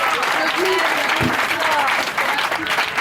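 Church congregation applauding and cheering loudly, a dense continuous wash of clapping and voices with a preacher's voice over it.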